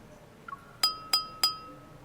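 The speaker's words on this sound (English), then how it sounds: "the crisp sound of clinking glasses captures everyone's attention" Wine glasses clinking at a banquet in a video game scene, three crisp bright chimes evenly spaced about a third of a second apart, each ringing briefly, after a softer small tap, in an otherwise quiet setting.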